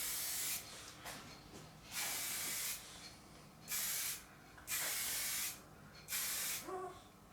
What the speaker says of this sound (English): The idea that I'm learning is that not to spray too far away